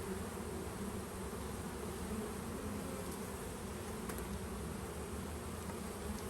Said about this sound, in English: I'm gonna release this one bee that's still in here that's live.